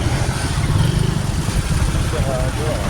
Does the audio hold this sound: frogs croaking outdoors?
no